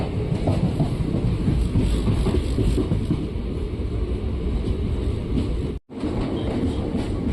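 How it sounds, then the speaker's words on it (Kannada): A passenger train rolls into Arsikere junction in India with a steady, loud rumble and rattle of carriages on the rails, the noise continuous throughout and broken by one brief dropout near the end. "ನಮ್ಮ ಟ್ರೈನ್ ಈಗ ಅರಸೀಕೆರೆ ಜಂಕ್ಷನ್ಗೆ ಎಂಟ್ರಿ ಆಗ್ತಿದೆ"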